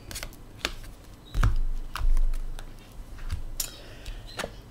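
Tarot cards shuffled during a reading, close up: a series of sharp riffling snaps and slaps at irregular intervals, with soft thumps as the deck is handled.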